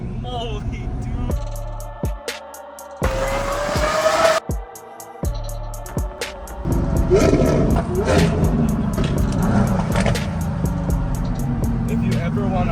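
Loud V12 supercar engine and aftermarket exhaust roaring during a cruise to a car meet, with revving bursts, surging and dropping, close by, mixed with other car noise and some speech.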